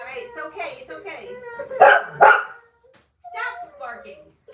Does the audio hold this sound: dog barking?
yes